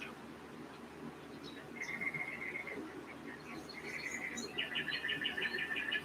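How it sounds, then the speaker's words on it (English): Several birds chirp and trill outdoors, with repeated high whistled phrases growing busier toward the end over a soft background hum. "let's listen to our birds here for a while"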